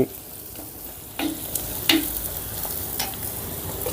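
Potatoes with salt and spices are stirred in a frying pan for aloo pepper fry, a close steady sizzle broken by a few sharp scrapes of the spoon, no talking.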